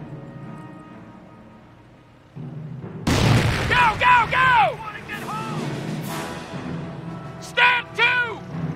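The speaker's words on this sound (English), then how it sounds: "Grenades away!" Grenade blasts in the World War II strategy game Company of Heroes, Normandy campaign: several loud booms burst over a battlefield din, with shouted soldier voices and gunfire around them.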